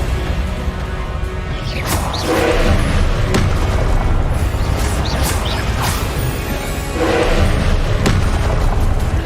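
A Confringo spell explosion in Hogwarts Legacy: loud, dense booming blasts and crashing bursts recurring over a constant roar of battle noise, with no pauses.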